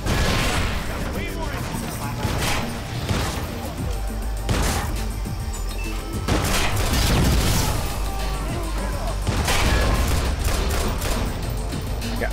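Weapons firing in the Watch Dogs video game, repeated bursts and sharp shots with crashes and booms in an ongoing firefight, loud and close, with someone talking over the action.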